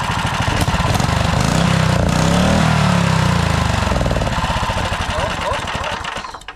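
A turbocharged 420cc small engine runs rough and loud close by, a sustained buzzing drone with uneven pulsing and a brief rise in pitch mid-run before fading toward the end.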